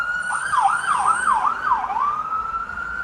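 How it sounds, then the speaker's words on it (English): A wailing ambulance siren rising and falling in a fast repeating cycle as it passes by, loud and fairly near, then settling into a steady tone, with no talk over it. "Got an ambulance riding by, so excuse the noise."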